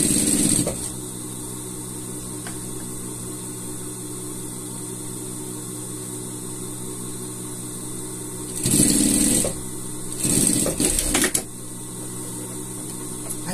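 A sewing machine stitches binding trim onto a pet collar, its steady mechanical whir running close and continuous with a few brief louder bursts near the end.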